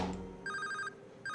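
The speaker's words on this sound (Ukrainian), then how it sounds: "Надія Григорівна дзвонить." A telephone rings electronically in two bursts, a long trill followed by a short one after a pause, fairly close and with no talk over it.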